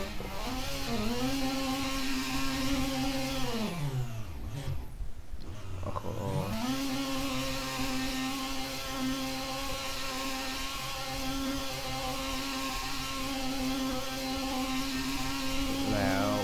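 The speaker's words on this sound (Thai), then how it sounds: "เรามาดูลีลาการขับนะครับว่าคันนี้ กับโรเตอรี่เนี่ย มันจะเป็นไงกับฟิล" Mazda RX-7 rotary-engined car driving in an Assetto Corsa-style racing game, a loud continuous high-revving drone with gear shifts and a brief dip partway through as revs drop and climb again, steady throughout with no talk.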